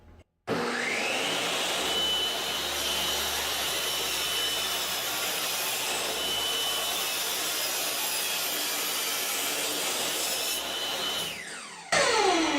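A saw cuts wood on a finger joint jig, making a 3 mm cut. A loud, continuous rasping buzz runs steadily for about eleven seconds, then stops abruptly.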